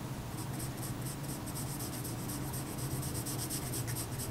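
A 2B pencil shades on paper with a continuous, soft, close-up scratching and rubbing, steady strokes with a faint rhythmic pulse.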